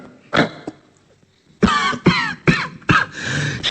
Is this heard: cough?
yes